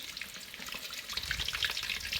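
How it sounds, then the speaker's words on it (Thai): Tilapia frying in a pan in a rural home kitchen, a soft continuous hiss and crackle that grows a little busier toward the end, heard alone without talk. "ยายใส่กระทะแล้วนะครับ ก็จะทอดปลานิลปลาหมกเทศเนี่ยนะ"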